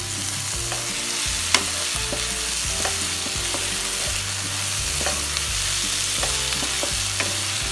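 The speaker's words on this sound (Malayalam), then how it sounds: "അപ്പോൾ ഇത്രയും സാധനം ഞാനൊന്ന് ക്രഷ് ചെയ്തിട്ട് എടുത്തിട്ടാണ് ഇപ്പോൾ ഇതിലേക്ക് വഴറ്റുന്നത്." Crushed masala for Thalassery-style chicken chukka sautéing in a pan, a continuous close sizzle with rhythmic spoon stirring and light clinks throughout, no voices.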